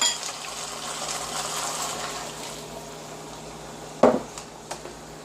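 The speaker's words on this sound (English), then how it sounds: "we're gonna put in the water" Water pours into a pot of goulash with pigeon peas in a gushing, steady stream; near the end a sharp clank of the pot or a utensil rings out, followed by a couple of smaller knocks.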